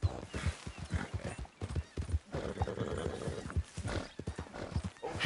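A horse gallops in Red Dead Redemption 2, its hooves pounding in a fast, steady clip-clop rhythm with an occasional whinny, close and continuous with no talk over it.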